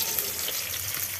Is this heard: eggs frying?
yes